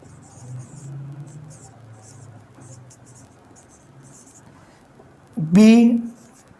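A pen scratches on paper in faint, intermittent short strokes, and a voice speaks briefly at the end.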